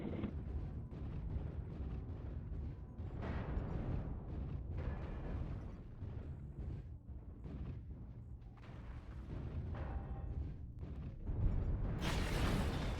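Incoming missile strikes in MechWarrior Online, a barrage of heavy thudding impacts and rumbling blasts clustered in bursts, with mechanical clatter underneath and a sharp loud hit near the end.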